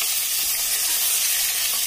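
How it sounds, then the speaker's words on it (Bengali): Snakehead fish frying in a pan gives a loud, close, continuous hissing sizzle that stays even from start to finish. "আর এখানে মাছ ভাজা হচ্ছে,"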